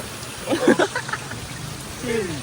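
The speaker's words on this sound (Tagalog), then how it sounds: "Lakas ng ulan guys." Heavy rain pours steadily near a church while people shelter under cover, a dense hiss running under voices talking and calling out close by.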